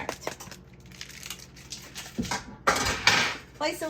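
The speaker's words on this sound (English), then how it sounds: "Place a lid on it." Metal lid set onto a cooking pot in a home kitchen, a few clanks and rattles of cookware amid kitchen handling noise, with a person talking over it.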